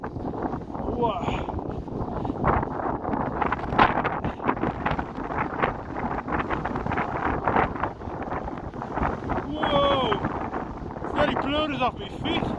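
Strong wind gusts of around 50 mph batter a wild camp among rocks, a roaring, buffeting rush that swells and surges while a voice speaks and exclaims intermittently over it.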